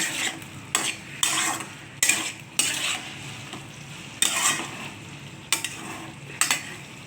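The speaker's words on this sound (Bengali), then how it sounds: "আলুটার সঙ্গে দিয়ে ভালো করে কষিয়ে নেব" Soybean chunks and potato are stir-fried in a pan, with a low sizzle under repeated scraping strokes of a metal spatula against the pan, roughly one every second, close and clear.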